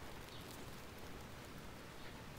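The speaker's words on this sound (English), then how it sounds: "If it starts raining heavier than this" Light rain falls steadily on a Toronto street near Bloor Street and Dufferin Station, a constant soft patter and hiss throughout with no voices.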